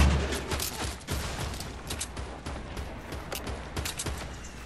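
Fortnite battle royale gunfire rattles in a dense, rapid stream of shots, mixing near and distant bursts with no speech over the steady crackling exchange.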